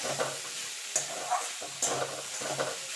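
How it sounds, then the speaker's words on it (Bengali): Cauliflower fries over high heat in a hot pan while being stirred, a steady sizzle broken by rhythmic scraping strokes of the spatula about once a second, close and clear. "এবার দিয়ে দেবো ফুলকপিটা।"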